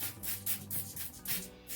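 A spray bottle spritzes liquid onto a paper towel while acrylic paint is being poured, giving repeated soft hissing bursts in a quick irregular rhythm, close and fairly quiet.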